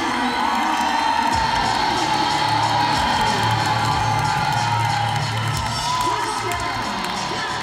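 A stadium crowd at a 2010 Lingerie Football League women's football game between the Seattle Mist and the LA Temptation roars and whoops continuously, dense and loud, with voices speaking over the cheering.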